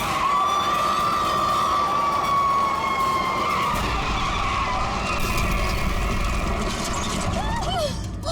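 A car skids during a tense driving scene in an episode of the TV drama CID, with a long, high tire squeal that fades after a few seconds. Engine and crowd noise run underneath, and a brief squeal returns near the end.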